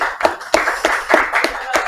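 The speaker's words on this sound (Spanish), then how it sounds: "Un aplauso para Norma." An audience claps in scattered, sparse bursts at a talk-show panel discussion, about half a dozen distinct hand-clap peaks over two seconds, fairly close and moderately loud.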